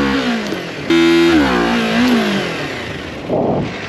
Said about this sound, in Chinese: 所以说最后我们只能比 R3 收敛一点的做一个弹射起步啊